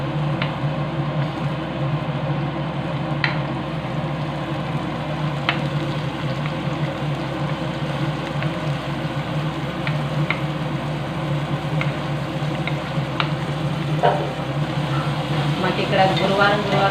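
Onions and ridge gourd frying in a pan for a ridge gourd and egg dish: a steady low sizzle runs throughout with occasional faint clicks and scrapes, moderate and close, under a person's voice.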